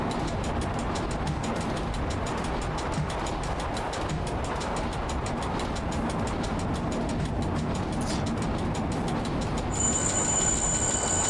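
A passenger train in the Train Driver 2 simulator rolls along rails with a continuous rumble and regular clacks of wheels over joints, plus a steady high tone near the end, with no speech.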